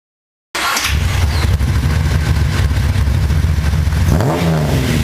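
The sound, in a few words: Nissan Skyline Hakosuka S20 inline-six engine roaring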